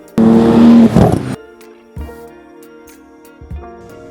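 A Porsche GT2 RS engine roars loudly in a short burst, then drops to a rumbling idle with a couple more brief revs.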